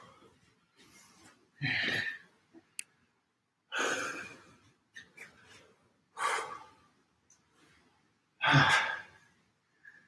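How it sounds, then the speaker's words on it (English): Heavy breathing after a set of leg exercises at the gym: four or five deep, loud sighing exhales spaced a couple of seconds apart, with soft breaths and small clicks between them. "Still breathing heavy."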